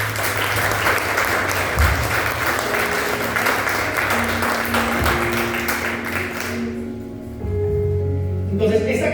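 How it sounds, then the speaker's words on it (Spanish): A Spanish-speaking church congregation applauds the Lord, sustained crowd clapping that fills the hall for several seconds, with low sustained organ or keyboard notes beneath it and some voices mixed in before it thins out near the end. "Aplauda al Señor, por favor."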